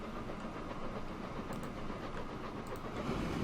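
A steel freight train rolls along a British line in Transport Fever 2, a steady low rumble with faint rhythmic clatter and hiss, constant and moderately loud throughout.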